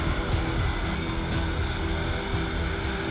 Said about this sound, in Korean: 헬기 타고 이동합니다